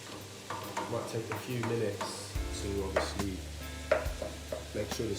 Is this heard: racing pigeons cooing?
no